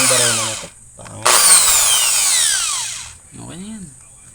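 A power drill bores a hole into a bicycle crank, whining loudly with broad high-pitched grinding in two bursts separated by a short pause, then a brief rising-falling whir as it spins down; nearby voices talk around it.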